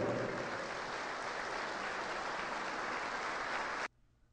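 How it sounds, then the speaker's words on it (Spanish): Steady applause from an audience at a national employment-programme training event, an even broadband wash of clapping that holds level for several seconds, then cuts off abruptly into near silence. "Fuerte el aplauso."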